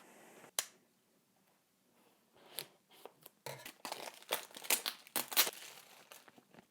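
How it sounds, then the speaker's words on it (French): Plastic wrap crinkling and tearing off a smartphone box during unboxing, sparse snaps at first, then a dense run of close crackling and rustling. "Donc on va désormais déballer le smartphone."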